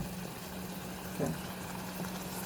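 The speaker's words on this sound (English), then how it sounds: "the water is almost boiling" Water nearing a boil in a cooking pot, a steady low simmering hiss with a brief bubbling burst midway, close and fairly quiet throughout.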